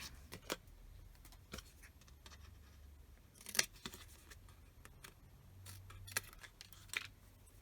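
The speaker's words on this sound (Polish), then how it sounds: "I teraz bierzemy nożyczki i to po prostu wycinamy." Scissors snip through paper in short, sparse cuts with small clicks between them, quiet and close, with no one speaking.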